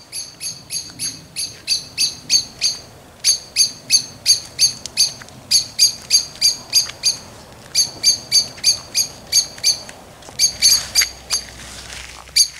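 A blackbird gives loud, rapid, repeated squawking calls in close, rhythmic bursts, with barely a pause between runs of notes.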